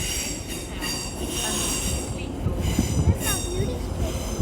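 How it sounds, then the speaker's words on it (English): A Class 185 diesel multiple unit, coupled as a six-car set, rolls into a station with a steady rumbling roar and high metallic wheel squeal, close and continuous. "the train coming in now"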